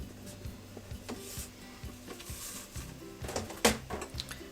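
A Cricut cutting machine runs a cut on craft material, giving soft mechanical whirring with faint rhythmic clicks and knocks as the carriage moves, quiet and close, with a brief louder rattle near the end.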